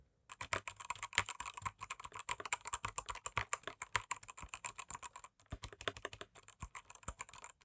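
A GamePro mechanical keyboard clacks under fast, continuous typing, each keystroke a sharp close click in a dense steady rhythm with only a couple of brief breaks and no speech.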